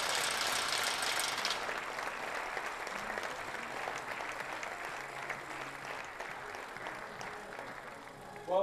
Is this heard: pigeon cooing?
no